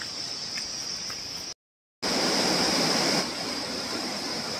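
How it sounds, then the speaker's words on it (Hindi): A mountain river in rainy Kapkote, Uttarakhand, rushes with a steady, loud broadband roar that briefly drops out before resuming, heard close and alone. "ये है यहाँ की नदी"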